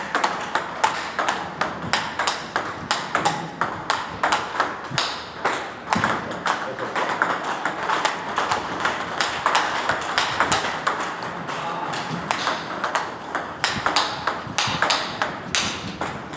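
A table tennis ball is struck back and forth with a new XIOM TMX racket, an outer-carbon blade. Crisp, evenly spaced pings and taps ring out across a long rally, with faint voices in the background.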